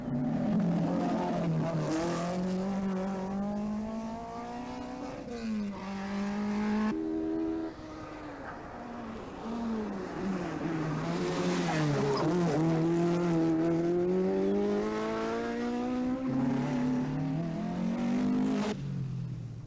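A rally car from the 1984 Galway International Rally in Ireland powers through a stage. The engine is loud and close, revving hard with rising and falling pitch through repeated gear changes and brief lifts, sustained with no talk.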